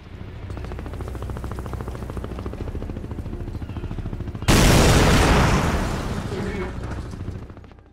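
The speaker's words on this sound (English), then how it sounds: "just fire a cannon at the enemies" Continuous mechanical rumble in a video game, then a sudden loud booming cannon blast that hits hard and slowly fades into a rolling roar.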